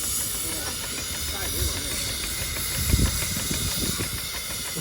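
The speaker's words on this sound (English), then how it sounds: "Must be the first steam engine with LED lights." A quarter-scale model steam traction engine, black with red wheels, gives off a steady broad hiss of steam at close range, with low rumbling bursts near the three-second mark and faint voices in the background.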